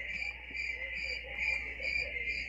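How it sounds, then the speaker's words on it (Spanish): Crickets chirp in a steady, high, pulsing trill, continuous and alone at a moderate level against a faint low hum. "Me están poniendo grillos de que nadie le interesa"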